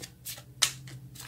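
Tarot cards being shuffled by hand in quick riffling bursts, several papery flutters with one sharp snap near the middle, close and clear without speech.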